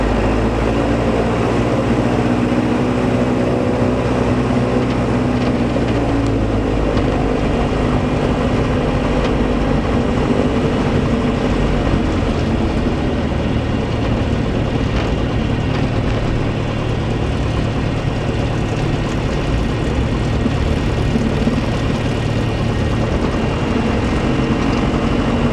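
A Diamond DA40 propeller aircraft is taking off, its engine holding a loud, continuous droning roar with steady low tones and a broad hiss that runs unbroken throughout.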